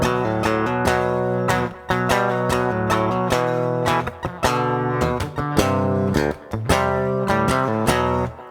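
Electric guitar plays a riff, a loud, driven sequence of rhythmic chords and accented notes with brief pauses, up close and without talk.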